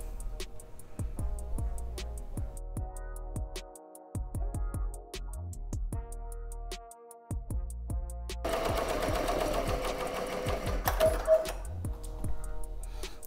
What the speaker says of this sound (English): Let's do the tag down stitch now.